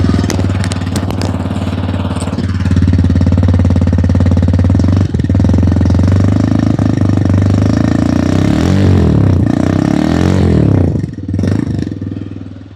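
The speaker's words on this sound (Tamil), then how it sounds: "ஸோ இத வண்டிய ஆன் பண்ணி இதோட எக்ஸாஸ்ட் நோட் வந்து எப்படி இருக்குன்னு பார்க்கலாம்." A TVS Raider 125cc motorcycle starts and idles close up, its exhaust giving a loud, steady thrumming note with a few throttle blips near the end.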